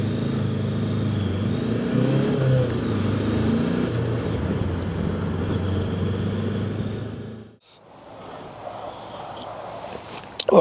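A 380cc Moto Morini or Sinnis motorcycle cruises in fifth gear at about 30 mph and 3,500 RPM, a steady close engine drone with wind rush that drops away abruptly near the end before the noise returns more thinly.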